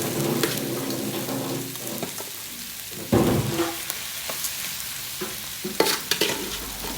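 Banana heart sisig, chopped banana blossom, sizzles and fries in a hot pan while being stirred, a steady close crackle with louder bursts of stirring and scraping, no talking.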